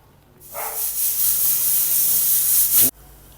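A loud, steady hiss of steam jetting from a pressure cooker whistle for a few seconds while cooking a pumpkin and cowpea curry, starting abruptly and cutting off sharply.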